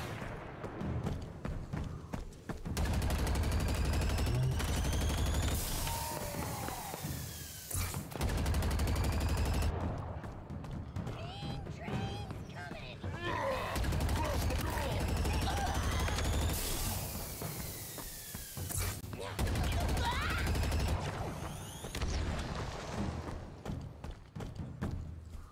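A plasma cannon fires in Halo Infinite in long sustained bursts, with loud rapid blasts and explosions cutting in and out amid game combat, and a voice talks at times.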